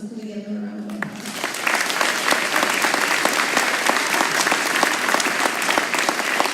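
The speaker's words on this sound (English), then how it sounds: "So can we give them a round of applause?" Audience at a high school and middle school spring concert breaking into applause after a brief spoken line, the clapping swelling quickly into a loud, dense, sustained ovation.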